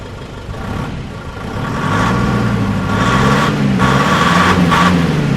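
A Nissan Patrol Y61 (fifth generation) diesel 4x4 SUV engine rumbles steadily nearby, its level swelling after a couple of seconds into a loud, even idle clatter with no talking.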